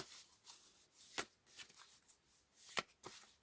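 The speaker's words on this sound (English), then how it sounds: "I will shuffle the cards and get into the reading." Tarot cards shuffled by hand in a quiet room, giving soft, irregular riffling and rubbing with a few sharper snaps and slaps, fairly faint, with no talking.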